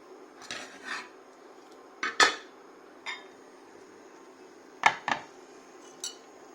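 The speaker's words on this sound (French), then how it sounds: "J'ajoute les sèches dedans. Je tourne un peu." Cuttlefish dropped into a cooking pot for a curry and stirred, giving several separate clanks and scrapes of a utensil against metal, fairly close, with quiet gaps in between and no talking.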